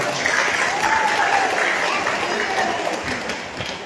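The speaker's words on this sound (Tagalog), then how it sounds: "Yung palakpak ninyo yan" Audience applause at an inspirational religious talk, dense and steady, filling the space with broad clapping noise that tapers slightly toward the end, with faint voices mixed in.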